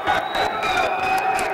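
Boxing crowd at a bout applauding and cheering, a steady murmur of clapping and calls under a commentator's voice.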